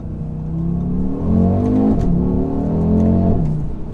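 An Audi RSQ3 2021 quattro compact SUV's engine pulls hard through a bend, a loud, close rising drone with a brief dip as the revs change mid-corner, then climbing again, with no talk.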